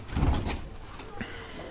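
Pigeons coo at close range, a soft low burble kept at a domestic loft where pairs are housed, with faint shuffling nearby.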